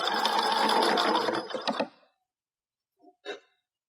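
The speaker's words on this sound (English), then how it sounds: "now I'm going to sew it down with a straight stitch" A sewing machine running a straight stitch to attach snaps at the bottom of a leotard: a steady close mechanical whir for about two seconds that slows and stops, then one brief short burst of stitching.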